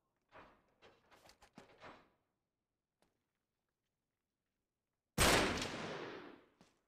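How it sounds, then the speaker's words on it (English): A single loud, sharp gunshot blasts a lock in Uncharted 3, ringing out with a fading tail after a stretch of quiet. It comes after several earlier soft shuffling thuds. "Back up, I'll shoot the lock."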